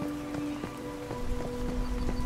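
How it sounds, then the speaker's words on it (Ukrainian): Steady rain pattering in the video game Once Human, a continuous wash of drops with soft rhythmic footstep-like taps over a low sustained game tone. "Тут дощить."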